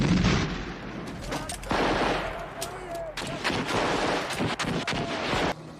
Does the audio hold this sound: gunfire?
yes